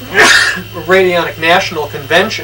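A short sharp sneeze bursts out near the start, followed immediately by someone speaking.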